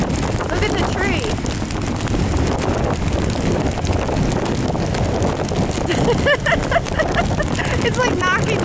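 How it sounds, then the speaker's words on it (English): Strong hurricane wind from Hurricane Irene in 2011 roars steadily and loudly into the microphone throughout, with a voice briefly audible under the buffeting gusts near the end. "Yeah, it's pretty windy, huh?"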